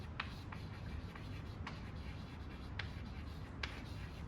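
Chalk or marker writing on a board during a physics lecture on the Doppler effect, a steady soft scratchy rubbing with a few sharper taps, heard close against a low room hum with no talking.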